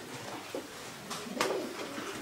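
A Markus Sottor line racing pigeon coos softly in a loft, with a few short low calls over a steady background hiss and faint rustling.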